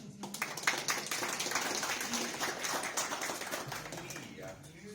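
Audience applause for Eesti Maja at an Estonian exhibition event, a steady dense patter of many hands clapping that fills the room from start to finish and tapers slightly at the end, with voices murmuring underneath.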